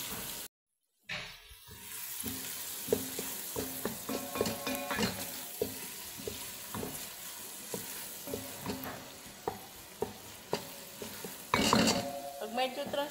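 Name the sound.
onion sizzling in butter, stirred in pan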